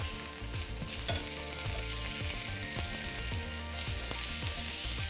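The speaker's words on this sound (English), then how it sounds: "You want to hear that when you put it into the pan. That sizzle?" A NY strip steak searing hard in a hot pan gives off a loud, continuous sizzle with rhythmic background clatter, steady throughout and with no voices over it.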